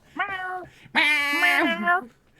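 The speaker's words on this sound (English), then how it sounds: "she's looking at me and meowing" A cat meows twice nearby, a short call followed by a longer, drawn-out meow, loud and clear with no other sound.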